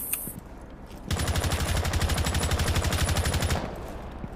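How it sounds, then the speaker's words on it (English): Rapid automatic gunfire from Rainbow Six Siege, a loud sustained burst of evenly spaced shots lasting a few seconds before cutting off, with quieter sounds before and after. "stop shooting."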